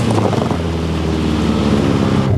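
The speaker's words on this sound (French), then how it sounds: "Quand la Clio Maxi s'éloigne" Renault Clio Maxi rally car from 1995 pulling away, a loud, steady engine roar with a fading pitch, wind buffeting the microphone throughout.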